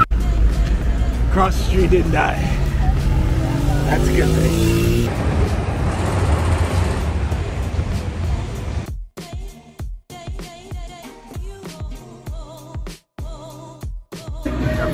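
Busy street traffic in Cabo San Lucas: a steady roar of passing cars and other vehicles close by for the first half, with someone talking over it, then the traffic noise breaks off into choppier, quieter sound.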